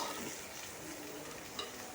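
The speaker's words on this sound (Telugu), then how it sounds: "ముందుగా కోసి పెట్టుకున్న బెండకాయలను అందులో వేసుకోవాలి. వాటినన్నిటినీ ఇలా తిప్పుకోవాలండి." Chopped okra is tossed in a frying pan, a faint, even hiss of frying with soft stirring movement and one small clink.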